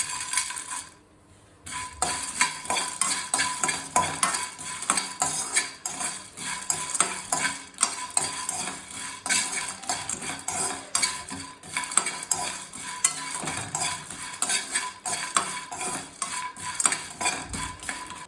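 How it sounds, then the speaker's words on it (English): Whole cloves are stirred in a pan for homemade garam masala, giving a steady close rattle and clatter of spice and utensil against metal, busy and continuous with no voices. "Now add quarter cup of cloves."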